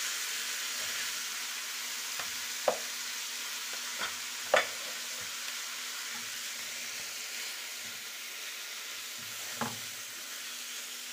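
Onions and peppers fry softly in a pan with a faint continuous sizzle, broken by a few scattered utensil scrapes and taps.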